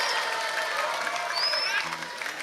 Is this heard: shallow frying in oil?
no